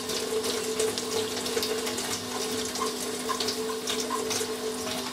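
Tap water runs steadily into a sink while makeup brushes are rinsed back and forth under it, a continuous close splashing hiss with no voices.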